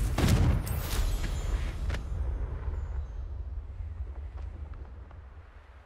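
The Confringo blasting spell in Hogwarts Legacy goes off as a loud, booming blast up close, its rumbling tail fading slowly over several seconds.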